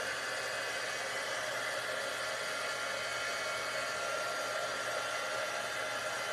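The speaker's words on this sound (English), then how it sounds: "So just the heat gun for a second." A heat gun dries ink on a craft block, blowing a steady, even roar of hot air that holds at a constant level throughout, close and alone with no talk.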